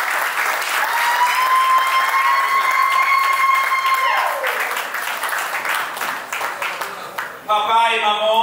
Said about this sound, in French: si on peut applaudir pour les parents de Rachel et Steve,